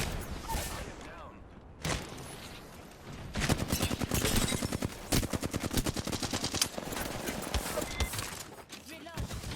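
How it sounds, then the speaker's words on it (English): Rapid bursts of gunfire in Apex Legends strike the player's character, a dense stuttering barrage with short pauses, loud and close, mixed with game effects. "Listen up, I'm getting shot."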